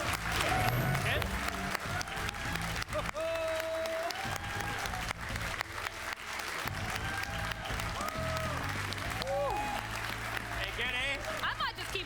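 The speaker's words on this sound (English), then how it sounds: "I might just keep clapping." Applause and clapping ring out from the audience at the Gamescom 2019 show for Gears 5, mixed with speech and music throughout.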